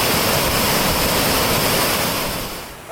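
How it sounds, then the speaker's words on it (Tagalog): Kinabuan Waterfalls on Mt. Irid pour with a loud, dense, unbroken rush of falling water close by. The rush fades slightly at the very end. "Andiyan na sa likod ko yung tinatawag nilang Kinabuan Waterfalls."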